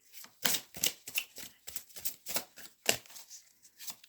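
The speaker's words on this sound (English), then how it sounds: "I've just been told to shuffle one more time" Tarot cards being shuffled by hand make a quick series of close, crisp riffling and slapping bursts in an uneven rhythm, alone and fairly soft.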